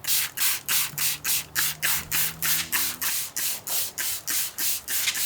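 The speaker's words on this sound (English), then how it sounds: "I've been told to just go ham with this spray" A hand spray bottle pumps liquid in rapid, even bursts, about three per second, close and loud while a vehicle wrap is being installed, with a faint tonal hum beneath the first half.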